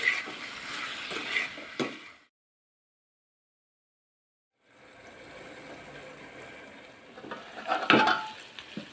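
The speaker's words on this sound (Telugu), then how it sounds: "ఉప్పు కారం వేసి మొత్తం మంచిగా కలిపేసుకొని ఒక మూడు నిమిషాల పాటు ఓ ఫ్లేమ్లో పెట్టుకొని మగ్గించుకోవాలి" Bottle gourd curry with salt and chili stirred in a frying pan: scraping stirs and soft sizzling, then a few seconds of silence, then renewed sizzling with a sharp clatter of a spoon against the pan.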